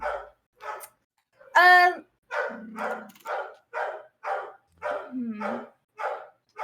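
A pit bull barks repeatedly, loud and close, in a steady series of sharp barks with a couple of low growls between them.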